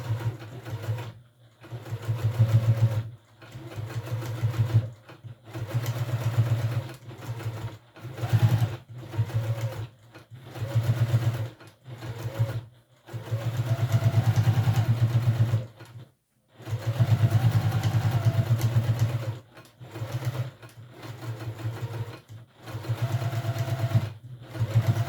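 A sewing machine topstitches around a piece in repeated bursts, its motor humming loudly for a few seconds at a time with short pauses between runs.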